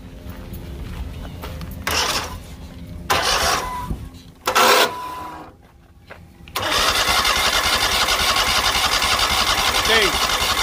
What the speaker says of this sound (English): We're gonna hit it now directly with the starter.